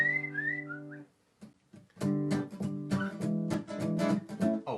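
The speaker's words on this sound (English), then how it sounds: "And it involves whistling." Melodic human whistling in a song, a bright sliding tune at first, then a pause, then a busier stretch where whistled notes mix with other tones, close and clear.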